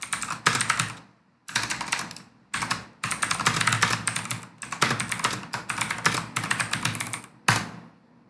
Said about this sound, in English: Let me type it on the chat section.